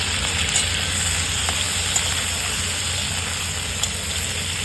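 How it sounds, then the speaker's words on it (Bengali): Pointed gourd frying in hot oil, a steady dense sizzle and hiss holding evenly throughout with a few faint pops, close and alone without talk. "একইভাবে আমি কাঁকরোলটাকে ভেজে নিচ্ছি।"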